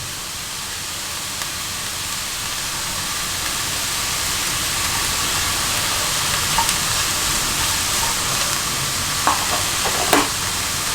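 Onions and garlic fry steadily in a hot pan for egg fried rice, a dense continuous hiss and sizzle close by, with a few faint scraping ticks of a utensil near the end.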